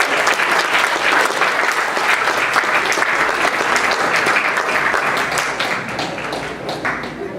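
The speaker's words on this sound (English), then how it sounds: "Please, could you give them another great round of applause?" A presentation audience gives another round of applause: thick, even clapping from many hands, continuous throughout and slowly easing toward the end, with no talk over it.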